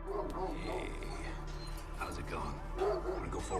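At a vet clinic, a dog gives soft yips and whimpers in short bursts at a modest distance, set against a muffled background with a voice in the scene.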